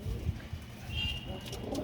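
Low, soft cooing of pigeons close by, a few throaty murmurs rolling over each other against faint background noise.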